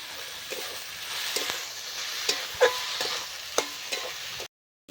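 Pre-fried potatoes tumble into a pan of prawn and banana-flower ghonto, bringing a soft background sizzle broken by a few scraping, clattering stirs, then a sudden cut to silence near the end.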